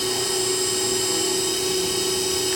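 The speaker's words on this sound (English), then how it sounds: "I'm drilling this hole to a depth of approximately 10 millimeters, and I'm using the carriage feed to drive the drill through." A Myford Super 7 lathe drills a hole about 10 millimetres deep under carriage feed, giving a steady continuous motor whine with a constant high-pitched tone and no breaks.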